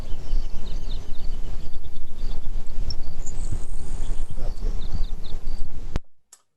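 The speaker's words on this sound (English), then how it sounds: "the grasshopper sparrow is that high buzzing sound. It's like tick, tick, bzzz." A grasshopper sparrow's thin, high insect-like buzz, like tick, tick, bzzz, rises for about a second over steady, rumbling outdoor background noise, with faint scattered chirps, on a coastal trail in summer.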